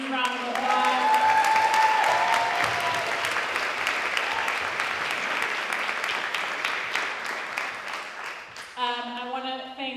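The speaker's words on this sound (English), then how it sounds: "let's give her a huge round of applause" Sustained audience applause fills a community forum on ICE threats and deportation, a dense steady wash of clapping that tapers slightly before a speaking voice returns at the end; voices are heard over it near the start.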